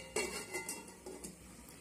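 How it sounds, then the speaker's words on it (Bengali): Light metallic clinks as a lid is set on a pot of half-boiling potatoes, several short taps and rattles close by, fairly quiet, with no talking. "এবার ঢেকে দেবো।"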